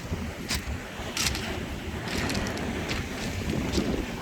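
Icy wind gusting along the Black Sea shore at Kudepsta, Sochi, on a cold day of about +5 degrees, a steady loud roar with broadband bursts buffeting the microphone throughout.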